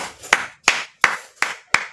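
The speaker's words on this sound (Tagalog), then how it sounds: "Palakpak naman tayo." Five sharp, evenly spaced claps ring out from an audience at a Philippine House of Representatives press briefing, each crisp and close, roughly a third of a second apart.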